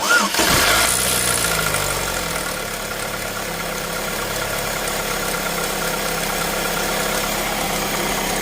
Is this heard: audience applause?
no